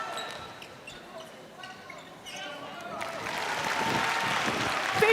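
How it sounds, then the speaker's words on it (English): Quiet arena ambience with a voice and a few bounces gives way to a swelling ripple of crowd applause at the M&S Bank Arena during a Samoa v Fiji netball play-off. "So a ripple of applause around the M&S Bank Arena."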